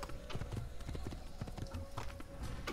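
Rapid clip-clop of galloping horse hooves in Assassin's Creed at a steady rhythm over a continuous game background hum, with a faint tone running throughout.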